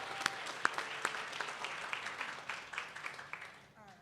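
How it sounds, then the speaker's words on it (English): Scattered clapping from a symposium audience, fairly faint and thin, with individual sharp claps standing out before the sound fades away. "another round of applause to congratulate them on their incredible achievement"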